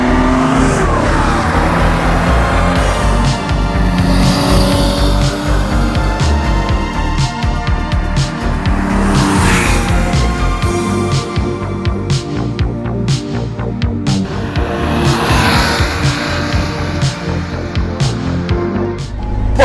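A 1969 Porsche 911 Targa drives with a loud, continuous engine note that rises and falls through revs and gear changes, close and unbroken, with no talking.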